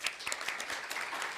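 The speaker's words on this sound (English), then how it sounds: "We would like to thank you with applause." A short burst of audience applause at a legal forum in Sirdaryo, Uzbekistan, many hands clapping together in a dense, even patter at moderate volume.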